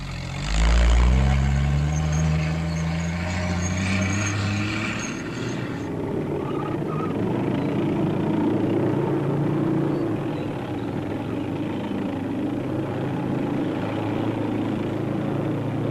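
An M29C Weasel light cargo carrier drives over snow, its engine a steady low rumbling drone that rises in pitch early on, then settles into a continuous, even roar with no talk.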